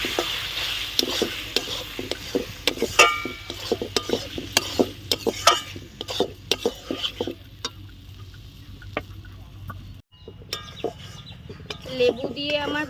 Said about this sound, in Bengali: এবার লেবুটা দিয়ে আরেকটু কষাবো